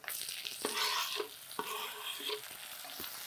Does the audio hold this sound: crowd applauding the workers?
no